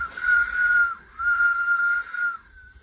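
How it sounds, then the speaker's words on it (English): A model steam train sounds its whistle: a bright, shrill tone blown in three close blasts, loud and near, with a soft hiss of steam beneath. "So let's sound the whistle."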